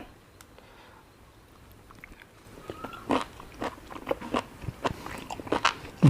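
Someone biting and chewing sweet liver with wasabi sauce, soft wet crunches and smacks growing louder after a quiet start, close to the mouth, without speech.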